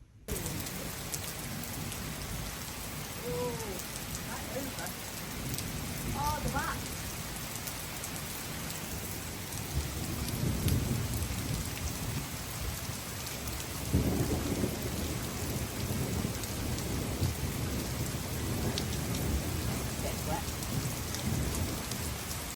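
Heavy rain pours steadily during a thunderstorm in England's Lake District, with low rolls of thunder rising and fading several times, close and continuous throughout.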